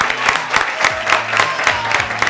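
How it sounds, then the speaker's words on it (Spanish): Studio audience applause for four women on a Spanish television variety show, a steady wash of clapping with rhythmic bursts running the whole time, moderately loud and close. "Démosle un aplauso a estas cuatro mujeres con gafas"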